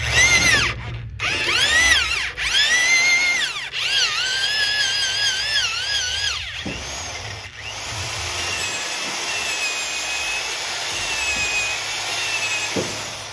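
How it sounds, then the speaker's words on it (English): A power drill with a 1-inch auger bit bores into wood, loud and close, its whining tone rising and falling through several short bursts before settling into a steady grinding run, with no talk. "So I had to resort to this 1-inch auger bit. And it gives me the fit that I want."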